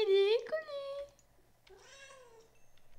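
In Minecraft, a cat meows twice with a pause between them, near and clear, over soft game background sound.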